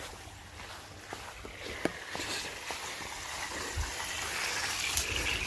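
Water from a hose gushes and splashes steadily into a bucket at a moderate distance, with occasional faint knocks and clicks in the background.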